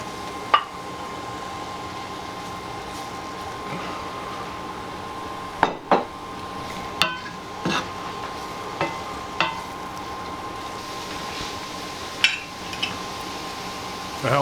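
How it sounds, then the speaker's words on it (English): Mushrooms fry in a pan with a soft, steady sizzle, broken by scattered clinks and scrapes as a utensil stirs them against the pan, and no one speaks. "we're going to add the mushrooms this time. And we're just going to fry them up until they're nice and soft and brown."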